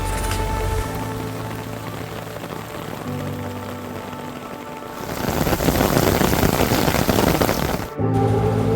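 Rain pours down on a mountain trek to the Madhyamaheshwar temple in the Himalayas, a steady hiss under a musical backing that swells into a louder, denser downpour partway through.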